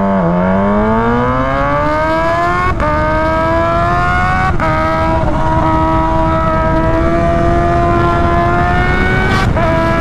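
A Kawasaki Z H2 supercharged motorcycle launching hard with launch control, a loud close engine whine climbing steadily in pitch, broken by quick gear shifts as it keeps accelerating.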